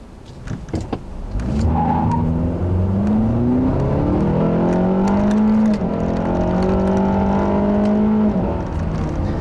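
A 2015 Acura TLX with the 2.4-litre four-cylinder and dual-clutch transmission accelerates hard, its engine rising in pitch through several quick gear changes, loud and close with no talk.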